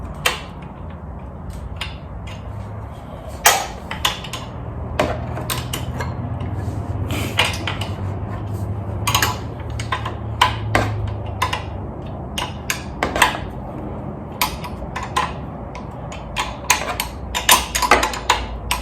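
A 13mm wrench works on the exhaust bolts of a Coleman CC100X bike, fitted with an aftermarket exhaust, giving scattered close metallic clicks and taps in an irregular rhythm over a low background hum.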